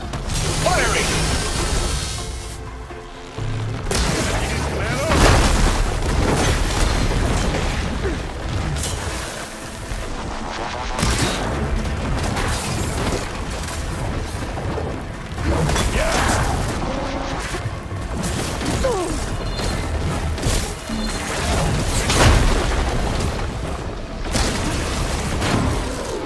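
Supporting gunfire in a Horizon Forbidden West battle keeps up dense, repeated bursts, booms and mechanical clatter, with voices heard in between.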